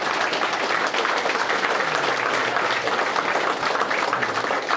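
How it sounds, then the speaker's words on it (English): Audience applause at a raceway banquet, a large room of people clapping steadily and densely throughout, with faint crowd murmur underneath. "I want everybody to stand up and applaud this gentleman over here"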